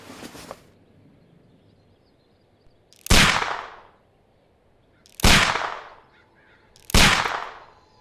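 Watson's pistol fires in Sherlock Holmes: Crimes & Punishments, aimed at a suspicious package: after a faint click, three loud, sharp shots ring out about two seconds apart, each with a long echoing tail.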